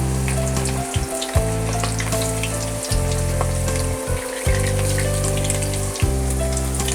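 Cauliflower pieces for Gobi 65 dropped one by one into hot oil, a continuous crackling sizzle with rhythmic clinks and splashes every second or so as each piece goes in, close up, no voices.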